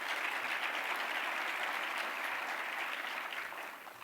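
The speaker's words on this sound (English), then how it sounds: "Round of applause for Jeff, please." A room full of people at an Economic Club of Indiana luncheon applauds Jeff, dense, even clapping heard from a distance that fades slightly toward the end.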